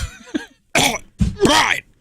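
A voice imitates a wet, phlegmy cough with a few short guttural throat-clearing bursts, close and loud, in a casual studio conversation.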